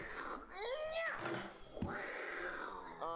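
Someone imitates a cat, hissing and yowling in a spoken, cartoonish voice with rising and falling wails and a sharp hiss. The whole burst is fairly close and loud.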